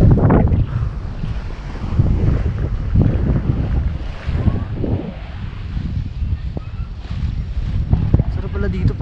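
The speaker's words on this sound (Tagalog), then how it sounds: "Lakas ng alon, no?" Strong sea waves roll and crash along a Philippine shore in the late afternoon. A loud, continuous roar with surging swells is heavily buffeted by wind rumbling on the microphone, and a voice can be heard now and then.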